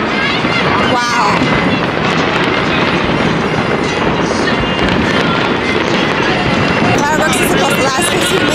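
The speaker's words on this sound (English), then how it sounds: "Fireworks is supposed to last 15 minutes." New Year's Eve fireworks over Baltimore's Inner Harbor: a loud, dense, unbroken barrage of booms and crackling bursts nearby, with people talking in the crowd.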